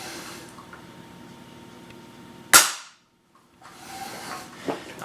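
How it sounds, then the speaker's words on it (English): A single sharp crack from an RWS Diana 56 TH .177 spring-piston air rifle firing, close and loud, followed by a moment of near silence before faint handling noise resumes. "let me fire this shot so I don't keep tension on the spring."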